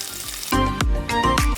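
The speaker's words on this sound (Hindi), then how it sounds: "अब इसमें 1 टेबलस्पून भर के लहसुन ग्रेट किया हुआ शामिल कर रही हूँ मैं।" Grated garlic hitting hot oil with mustard seeds, a loud burst of sizzling and crackling that begins abruptly partway in, with sharp popping spikes over a steady frying hiss.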